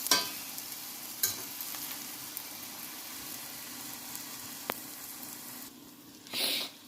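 A steady sizzle of eggs frying in hot oil in a pot, with occasional clinks and stirring sounds and a brief louder hiss near the end.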